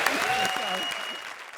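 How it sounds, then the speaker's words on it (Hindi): A comedy show audience applauds steadily, a dense wash of clapping with a voice faintly speaking underneath, fading slightly toward the end. "ज्यादा तालियां बजाओ।"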